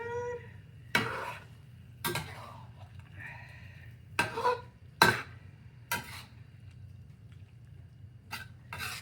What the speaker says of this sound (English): I'll stir it